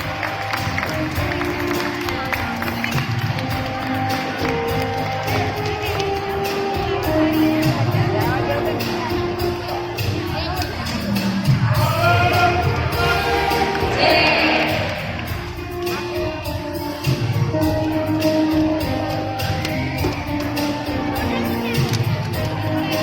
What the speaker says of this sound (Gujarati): ભેટ મળી રહી છે ત્યારે આપણે જોરદાર તાળીઓથી વધાવીશું આ ક્ષણને